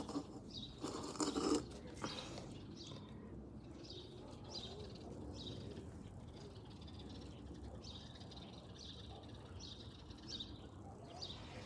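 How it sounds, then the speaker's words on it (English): Soft bird calls and chirps repeat in the distance over quiet outdoor ambience, with a brief louder rustle early on. "So it's amazing how you could hear the birds singing around here."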